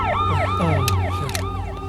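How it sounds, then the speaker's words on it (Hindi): An ambulance siren wails close by, its tone sweeping up and down in quick repeated cycles, loud and continuous. "एम्बुलेंस है भाई।"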